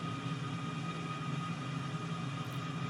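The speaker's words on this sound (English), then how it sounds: "The sound of these engines, even in the Viper, I think sounds really, really good. But the Tomcat, the sounds over there, just amazing." Steady, droning hum of F-14 Tomcat jet engines in Microsoft Flight Simulator, a constant low rumble with tonal whine layered above, continuous and unchanging, without any talk.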